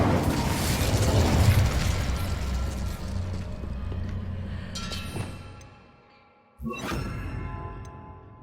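An Incendio fire spell cast in Hogwarts Legacy, heard as a loud roaring whoosh that fades over several seconds, then a sharp burst with crackling sparkle after a brief lull.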